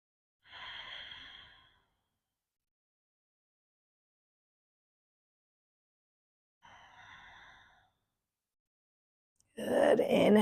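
Slow, drawn-out nasal breaths during a floor stretch in a recovery session for chest, quads and hip flexors: two soft, long exhalations separated by a quiet pause, close to the microphone, then a brief louder rustle at the end.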